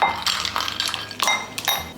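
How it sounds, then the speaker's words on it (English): Ice goes into a glass with a pomegranate and coconut water drink, giving several bright clinks and knocks that scatter irregularly up close, with no clear speech. "And then some ice."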